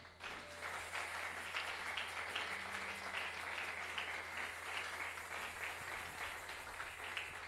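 Church congregation applauding during a Sunday worship service, a steady, dense wash of clapping that holds loud and even for the whole stretch with no talk over it.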